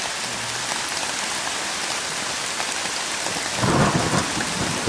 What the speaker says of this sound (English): This is a bad storm, guys.